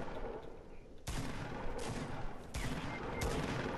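Gunfire in the battle-royale shooter Fortnite, several sharp shots at irregular intervals over a busy, fairly quiet game background.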